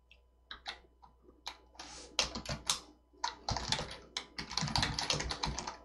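Typing on a computer keyboard during a web development coding lesson: a dense, close run of irregular key clicks and taps in bursts, with brief pauses, and no talking.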